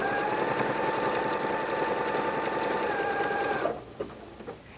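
A Bernette b38 sewing machine running a stretch stitch for knits, a loud, steady, close mechanical whir with a fast regular pulse that stops abruptly, followed by a few faint clicks.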